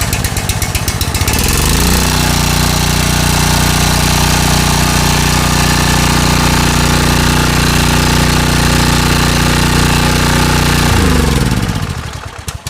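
A small engine cranks for a moment, catches, and settles into a loud, steady running drone held close by for about nine seconds, then shuts down and winds off.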